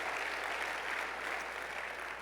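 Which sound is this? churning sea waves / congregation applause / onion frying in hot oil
congregation applause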